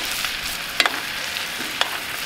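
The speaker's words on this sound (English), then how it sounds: "And then just baste your steaks." Steaks frying in a pan while being basted with garlic and rosemary, a steady close sizzle with a few sharp spoon clinks and spatters.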